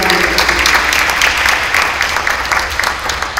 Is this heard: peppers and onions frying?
no